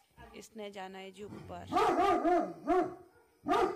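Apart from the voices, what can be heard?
dogs barking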